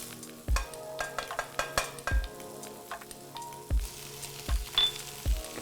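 Garlic and ginger frying in tea seed oil, a soft sizzle broken by several distinct utensil knocks and clinks against the pan at irregular intervals, close and fairly quiet.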